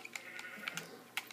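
Sheep in a video game bleat several times in short, separate calls spread across a little over a second, fairly close and clear with no talking.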